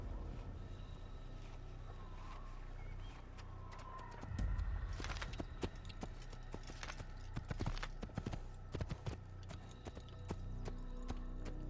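Horse hooves clatter at a gallop in Assassin's Creed, a quick, fairly close clip-clop rhythm with ambient town noise, faint birds and scattered thumps.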